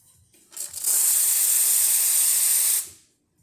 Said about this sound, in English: And I'll show you the steam.